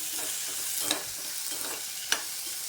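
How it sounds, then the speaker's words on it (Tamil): Okra sautéing in a pan, a soft steady sizzle with two sharp utensil taps against the pan as it is stirred. "வெண்டைக்காய் போட்டு நல்லா வதக்கிட்டேன்."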